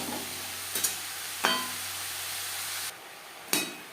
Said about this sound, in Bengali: লবণ হলুদ ফুলকপির সাথে বেশ ভালো করে মিক্স করে দেবো